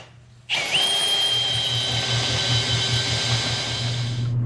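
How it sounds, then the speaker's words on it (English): A power drill with a hole saw spins up abruptly and runs loud and steady for about four seconds, a high whine riding over a low grinding hum, then stops. "So let's drill those with the hole saw now."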